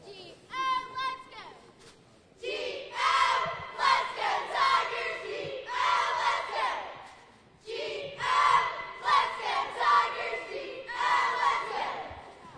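Cheerleaders at a high school pep rally shouting a chant in loud unison bursts, with the rhythmic phrases repeating over a crowded gym.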